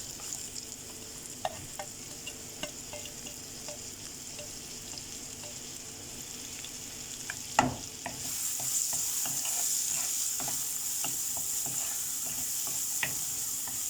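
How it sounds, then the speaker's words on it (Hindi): Chopped onion fries in a pan with a steady broadband sizzle, lifting louder and hissier partway through, while occasional sharp clicks and scrapes of stirring break through the texture. "अब इसे फ्राई करना है कि ऑनियन हमारा अच्छे से लाइट ब्राउन करना है"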